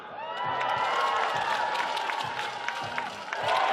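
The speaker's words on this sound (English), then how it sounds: "All right, let's cheer them on" Crowd at a Manawatu Jets versus Tauranga Whai basketball game cheers and applauds steadily, a dense wash of clapping and shouting with occasional whoops, loud and sustained throughout.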